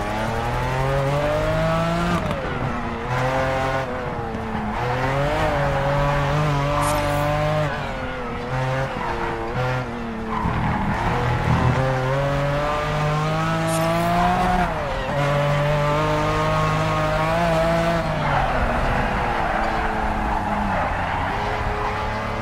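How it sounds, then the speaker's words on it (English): A car drifting in the Project Cars 3 racing game: a continuous revving engine with rising and falling pitch and long tire squeals through the corners, loud and close, with no talk. "This drifting might actually be making it faster around corners low-key."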